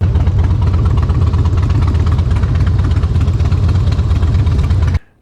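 A 2004 Harley-Davidson Screamin' Eagle Softail Deuce CVO fitted with aftermarket pipes idles loud and deep, its lumpy, uneven rhythm throbbing continuously up close before cutting off abruptly.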